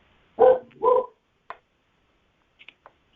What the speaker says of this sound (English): The dog likes to talk.